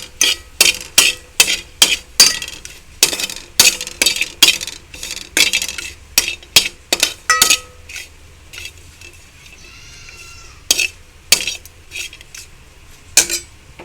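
A metal spatula scrapes and clanks rhythmically against a pan as dry coconut pieces are fried and stirred until browned, a close, loud series of sharp clinks that thins out and slows toward the end.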